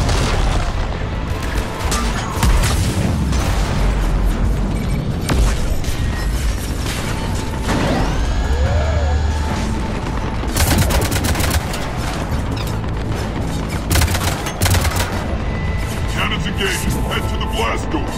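Heavy cannon fire and booming blasts in a Mass Effect 3 battle on Omega against an Atlas mech, loud repeated thuds and crashes layered with gunfire, mechanical whirs and voices talking throughout.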